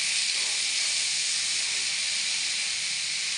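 Black cumin with garlic dropped into hot oil, producing a loud, steady, unbroken hiss that holds evenly throughout without pauses or voices.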